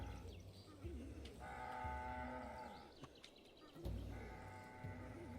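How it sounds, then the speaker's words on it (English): In the video game Ancient Cities, a cow moos over and over in long, drawn-out, evenly repeating calls, with a second moo following after a pause, all set against a steady ambient game soundscape. "So can you see the repetitive mooing from the cow?"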